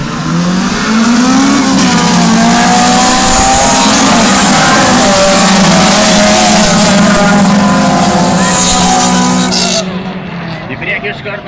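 Rally cars, including a Honda Civic, launch from the start line at the Kazlų Rūda rally, their engines roaring loudly and revving hard for about ten seconds before the noise eases off. A voice is faintly present under the engines.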